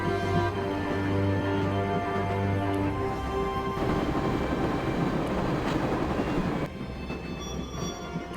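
A train running in the video game Broken Sword: The Shadow of the Templars, with a continuous loud rumble of wheels on the rails, a squealing tone early on, then a rattling drone to the end, no voices.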